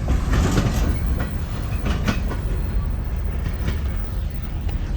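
A DeQueen and Eastern Railroad freight train hauled by GP40-2 locomotives rolls past near Broken Bow and Golden, Oklahoma, close and loud, with a dense rumble and rhythmic clickety-clack of wheels over rail joints throughout.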